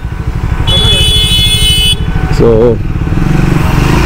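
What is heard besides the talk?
Triumph Speed 400 motorcycle engine idling with radiator fan running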